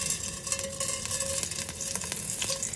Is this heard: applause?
no